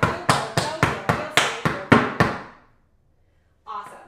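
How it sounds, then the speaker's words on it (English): Eight crisp tap shoe strikes on a hard floor land in an even, driving rhythm for a flap, heel, heel, toe and spank tap dance combination, followed by a pause and one faint scuffle near the end. "So you've got flap heel, heel, toe, heel, heel, spank heel, toe, heel."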